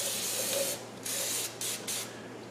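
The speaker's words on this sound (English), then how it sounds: "I didn't spray the other side." Aerosol spray can coating the rusty underside of an old Jeep WJ, hissing in three steady bursts separated by brief pauses, close and fairly loud with no talking.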